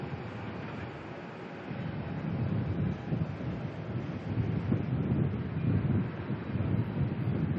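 A Qantas airliner, flight QF621 from Brisbane, lands at Melbourne Airport: a broad, distant roar swells steadily over several seconds beneath gusty wind buffeting the microphone, with no talking.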